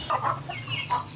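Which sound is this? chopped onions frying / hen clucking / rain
hen clucking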